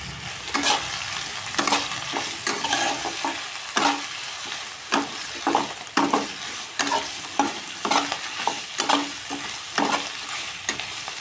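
Malabar spinach with a little salt and turmeric is stir-fried in a pan, with a sizzle beneath a steady rhythm of repeated spatula scrapes, roughly one every second, close and clear.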